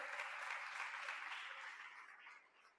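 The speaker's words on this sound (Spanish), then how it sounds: "Le damos un fuerte aplauso al pastor Daniel." Church congregation applauding a pastor, sustained clapping that starts full and gradually thins and fades toward the end, heard at a moderate distance.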